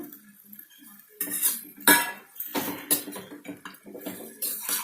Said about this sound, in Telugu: టమాటాలు కూడా వేసేస్తున్నాను